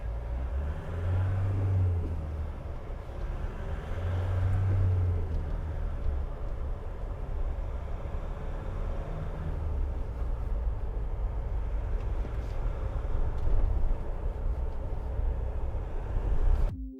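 Nissan NT400 Cabstar truck on a test drive, a steady low engine rumble and road noise heard from inside the cab, continuous and fairly quiet with no talking.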